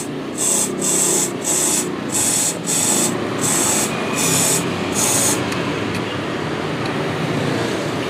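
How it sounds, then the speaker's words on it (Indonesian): Repeated bursts of aerosol cleaner sprayed onto the rear drum brake of a Vespa scooter, about seven short hissing blasts in a steady rhythm, close and fairly loud, then fading into quiet background hum. "untuk kampas belakang yang tromol, kalian tinggal semprot-semprotin begini nih"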